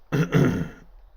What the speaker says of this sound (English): my irritating cough thing's going